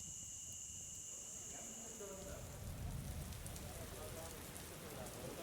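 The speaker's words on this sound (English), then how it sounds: "Rain's pelting down." Heavy rain pelts down steadily, a dense broadband patter that thickens and grows louder midway, with faint voices and a high steady tone in the background.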